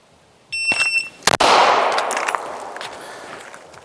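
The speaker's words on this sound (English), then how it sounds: "I'm reacting as soon as I hear the beep" An electronic shot timer sounds a short, high pitched beep during pistol draw practice, and a loud, sharp handgun shot follows about a second later and rings out into a fading echo.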